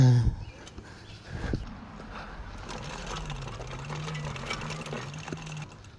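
A worn rear derailleur on a home-built electric mountain bike whirs and chatters in a steady mechanical drone with a rough rhythmic clatter, after a short thump at the start.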